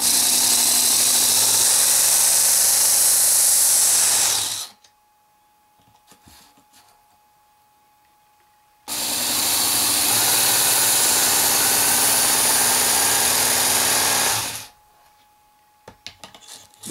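A WorkSharp Ken Onion Edition belt sharpener runs loud and close as a knife is ground on its belt, in two long bursts of steady grinding whir separated by about four seconds of near silence.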